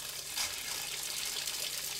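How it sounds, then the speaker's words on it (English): RV faucet running steadily as air is bled from the motorhome's fresh water system, a constant soft hiss of flowing water with a slight sputter near the start, no voices. "Make sure you bleed the air out of all the faucets."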